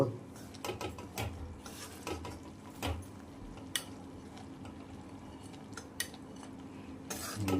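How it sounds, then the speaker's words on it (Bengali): Arsa pitha batter stirred in a pot, heard as repeated clinks and scrapes of a utensil against the metal over a low background hum, close and irregular, with no speech. "এইভাবে অল্প অল্প করে দেব আর ভালো করে নাড়তে থাকবো"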